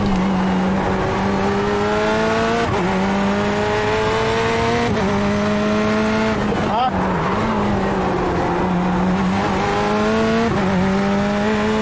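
Corvette C8.R race car in iRacing at Long Beach, its engine droning loud and steady with repeated rises and sharp drops as it shifts and brakes, tires worn and the car hopping, with a voice talking over it.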